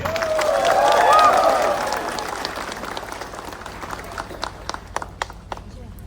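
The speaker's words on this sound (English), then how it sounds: "shall we all give a big round of applause for this public rally?" Crowd applause at a public rally against illegal taxation, with a loud swell of clapping and cheering voices that fades into scattered, thinning claps from individual people.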